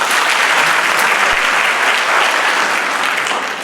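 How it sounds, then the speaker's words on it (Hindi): Steady applause from an audience fills a seminar hall at a national research symposium in a college, dense and even throughout before tapering slightly at the end. "ताली बजाइए।"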